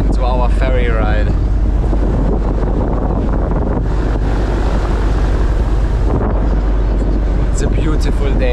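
Constant loud rushing of wind and engine rumble aboard a sleeper ferry at sea bound for Coron, Philippines, with a voice speaking briefly at the start.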